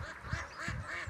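A flock of ducks quacking nearby, soft repeated nasal calls overlapping in an uneven rhythm, fairly faint, with no talk.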